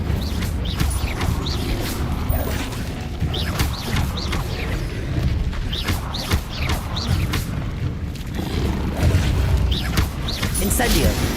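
Incendio fire spell cast in the Hogwarts Legacy video game, a loud, dense rush of flame bursts with booming thumps and mechanical clatter, repeated throughout over a continuous roaring bed.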